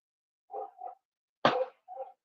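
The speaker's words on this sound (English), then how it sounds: "That's Ernie. If you can hear the barking, that's the youngster." A young dog named Ernie, a youngster just over two and a half, lets out four short, sharp barks indoors, with quiet gaps between them and the third bark the loudest.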